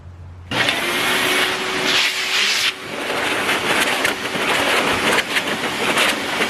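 Compressed air hisses in a loud, steady blast to clear dust from a freshly refreshed 1989 Dodge D100 valve cover, sounding close and continuous for several seconds with slight changes in pressure.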